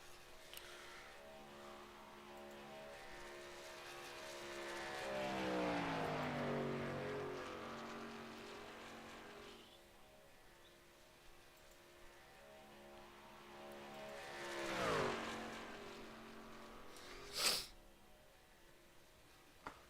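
Race cars qualifying at Talladega pass by in the distance, engine drones swelling and fading twice with a Doppler sweep, followed by a brief sharp burst.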